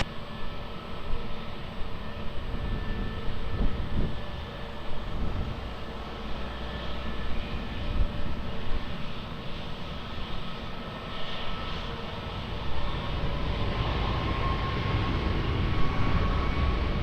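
Airliner taking off from runway 20 at Lisbon Airport, heard as a sustained engine roar that swells slightly toward the end, fairly loud and steady with no speech.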